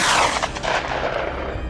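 A flurry of rifle shots rings out in a pine forest as hunters fire on wild boars, with sharp cracks rolling into echoing booms that fade over about two seconds.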